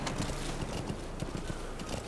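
Hooves clip-clop in a steady galloping rhythm as a horse runs in the video game Metal Gear Solid V: The Phantom Pain, set in Afghanistan, with a dense continuous backdrop and no talking.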